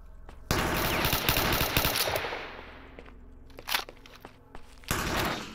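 Enemy gunfire in the shooter game S.T.A.L.K.E.R. Shadow of Chernobyl: a loud rapid automatic burst, then a few scattered single shots and a final heavy burst, with crunching footsteps in between and no talk.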